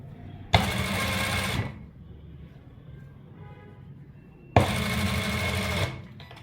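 Sewing machine stitching a pocket onto a gents' trouser panel, two close, loud, rapid whirring bursts of about a second each separated by a quiet pause.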